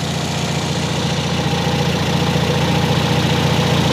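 A Toyota Limo ex-taxi engine, clean and low-mileage, idles steadily with a close, even low hum and light mechanical clatter throughout, with no voices.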